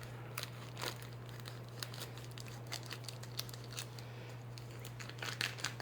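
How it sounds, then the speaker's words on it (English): Plastic ham packaging, tightly air-sealed, being cut open, faint crinkling and scattered snipping crackles over a steady low electrical hum, close by and quiet. "I'm going to go ahead and be cutting this here ham open."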